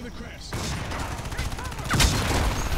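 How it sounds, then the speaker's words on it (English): Mounted machine gun fire in the Crysis 3 beta, a dense, sustained rattle of rapid shots with heavy booms, growing louder after a quiet start and peaking near the end amid game action. "mounted machine gun owns"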